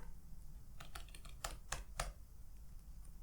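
Short run of typing on a computer keyboard while coding a Python project, a handful of crisp keystrokes clustered over about a second and a half against a low steady hum, close and fairly quiet.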